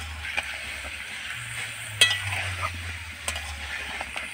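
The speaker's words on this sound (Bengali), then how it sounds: "এবারে এই মাংসটাকে ভালোভাবে নেড়ে চেড়ে মাংসটা থেকে ভালোভাবে জল বার করে নিতে হবে।" Meat stirred in a hot pan as it releases its water, giving a close, continuous sizzle with a few sharper scraping clicks of the spatula over a low background hum.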